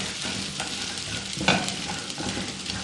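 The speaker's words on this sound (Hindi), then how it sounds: "अब मैं इसको थोड़ा सा भूनूंगी।" Mashed boiled vegetables with peas and green chillies fry in a pan, a soft steady sizzle with faint stirring scrapes and one brief louder clink near the middle, no voices.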